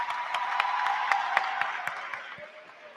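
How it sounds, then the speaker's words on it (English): A graduation ceremony crowd gives a round of applause, with scattered individual claps standing out over a softer, moderately distant wash of clapping that gradually thins. "let's give a round of applause for all of the community that has supported you to get you here today"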